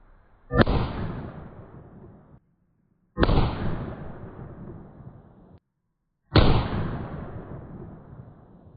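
Three pistol shots fired from a 4 5/8 inch barrel using a 125 grain load with magnum primers, each a sharp loud crack with a long decaying echo, evenly spaced about three seconds apart.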